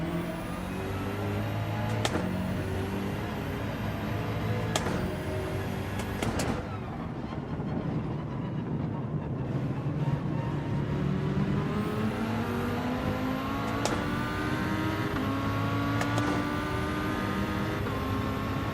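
A Lamborghini racing in Gran Turismo 7 drones steadily with a continuous, loud engine note whose pitch sweeps up and down through gear changes, with sharp shifts and a brief dip in the middle.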